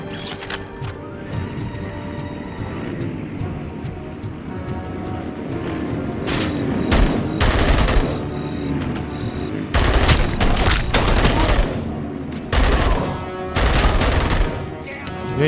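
Gunfire in the video game RoboCop: Rogue City, loud bursts of rapid shots and heavy blasts over a dense, continuous game soundscape.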